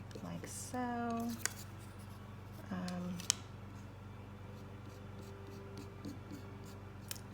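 A Tooli-Art pen drawing a line, giving two short squeaky strokes of about half a second each, close and fairly quiet over a low steady hum.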